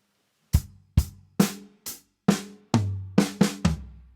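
A drum kit plays a short groove of about nine sharp hits, snare cracks leading into a descending tom fill with ringing low decays, played alone with nothing else around it.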